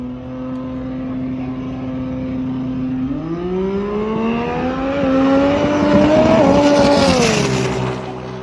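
A Toyota Supra drag car at a drag racing event holds a steady idle-like drone, then revs upward in a rising, loud, close engine roar that peaks and eases slightly, with no voices.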